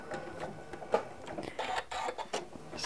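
A sewing machine stitches quickly in short, uneven mechanical bursts while locking stitches on quilt binding, close and fairly quiet.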